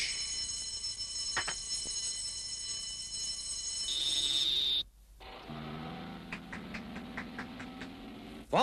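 A high electronic alarm tone sounds steadily, then cuts out briefly before a pulsing beeping alarm resumes, fairly faint and with no voices.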